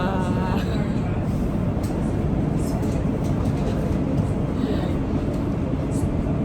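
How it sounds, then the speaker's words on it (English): Loud, steady rumble of a moving new purple train in London with rhythmic clatter and a constant low roar, occasional higher squeals above it. "This is a new train."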